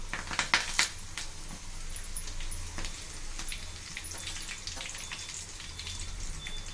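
Dried red chillies and curry leaves frying in oil, a crackling, spattering sizzle with sharp pops early on, settling into a steady lighter fizz with scattered crackles.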